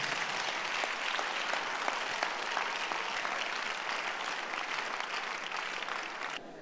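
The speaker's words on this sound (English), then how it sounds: "Give the Lord a clap of it." A church congregation claps together, a steady, fairly soft wash of applause with faint rhythmic accents running throughout, then cut off abruptly.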